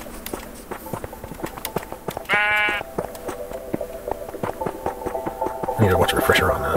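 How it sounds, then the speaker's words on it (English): A sheep in Minecraft Java 1.19 gives one clear bleat amid soft footsteps and game noise, while a person talks quietly in the background. "Check on the sheep."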